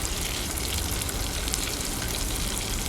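Food frying in very hot oil for taquitos, a loud, steady, dense sizzle and crackle heard close up, unbroken throughout with no talk over it.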